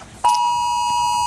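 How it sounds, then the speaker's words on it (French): Strident emergency alert alarm tone sounding from a mobile phone: a sudden loud, piercing steady beep that starts abruptly and holds continuously, close and alone. "C'est une sonnerie stridente qui a surpris tous ceux qui ont reçu le message hier soir."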